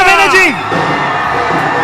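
A ringside crowd at a professional boxing match in Delhi whoops and cheers loudly and continuously, with a commentator's voice riding over the roar.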